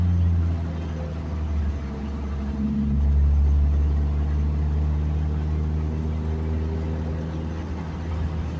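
A car engine with plenty of low-end torque runs steadily from the driver's seat, a deep rumbling drone with layered low harmonics that swells slightly around the middle and holds a constant, close, moderately loud tone.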